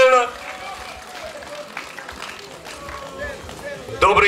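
Crowd applause at an opening event held by Afghan war veterans, a soft, dense patter of clapping running under a voice, with a louder burst near the end.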